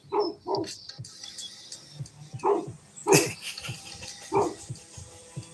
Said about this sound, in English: He barking.